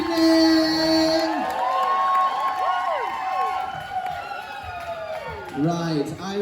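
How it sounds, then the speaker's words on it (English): Audience at a drag show critique evening cheers for the top two performers, loud whoops and shouting from a crowd mixed with a little applause, with voices calling out over the noise throughout. "give us a massive cheer for our top two this evening."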